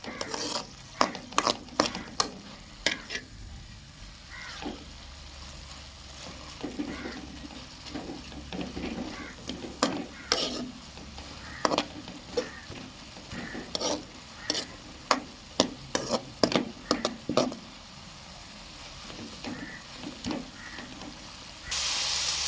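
Curry bubbling and sizzling in a pan with repeated sharp scraping taps of a spoon stirring, close and intermittent, no talking.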